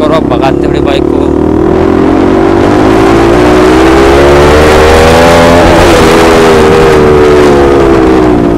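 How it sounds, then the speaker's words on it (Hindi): Loud motorcycle exhaust revving close by as the bike speeds along a flyover, a harsh rising and falling engine roar with shifting pitch that dominates throughout. "एग्जॉस्ट बहुत ज़्यादा आवाज़ कर रहा है, एक्सट्रीम लाउड, एक्सट्रीमली लाउड कर रहा है"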